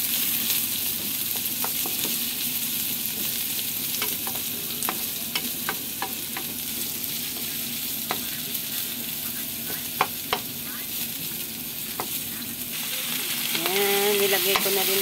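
Garlic and onion sauté in a hot pan for a Filipino ginisang ampalaya dish, giving a continuous loud sizzle and frying hiss with repeated light ticks and scrapes of a stirring utensil against the pan, close up and without speech.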